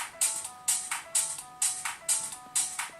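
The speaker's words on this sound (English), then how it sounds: "It's on my phone. It's one of the default ringtones." A default phone ringtone with a house-style beat plays alone, its bright synth stabs repeating in a steady, evenly spaced rhythm of about six pulses over a few seconds.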